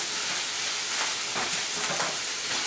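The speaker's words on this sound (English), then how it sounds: "Just let them steam in there a little bit." Food sizzles and steams in a hot pan with the heat turned way down, a continuous close crackling hiss with a few louder pops.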